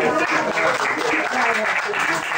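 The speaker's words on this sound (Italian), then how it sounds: "Un applauso" Audience applause at a book-festival award event, a steady dense clapping from a crowd that fills the whole stretch without a pause.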